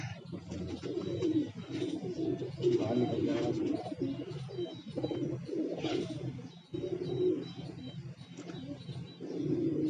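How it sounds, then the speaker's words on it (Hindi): Kalmue pigeons from Tonk coo continuously nearby in low throaty rolls, with occasional faint chirps from other birds in the background. "ये कलमुए कबूतर हैं, टोंक के कलमुए कबूतर हैं।"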